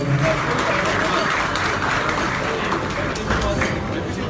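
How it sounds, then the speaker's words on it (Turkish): Audience applause for Dr. Mustafa Güveli, president of a village culture and solidarity foundation, at a 2020 event; steady, dense clapping fills the hall at a constant level throughout, with some voices mixed in. "güçlü bir alkışınızı rica ediyorum"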